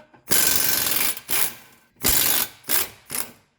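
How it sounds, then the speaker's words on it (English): A 1/2-inch impact gun works a ball joint bolt on a 2013 Hyundai Santa Fe, firing in five close, loud bursts of rattling hammering separated by short pauses. "Instead of the ratchet, I have opted out for my 1/2-inch gun, which makes a lot more sense."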